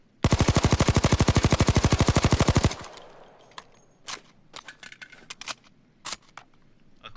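An HK MP5 Compact 5 submachine gun in Payday 2 fires one sustained rapid automatic burst of about two and a half seconds, loud and close, followed by scattered clicks and clatter.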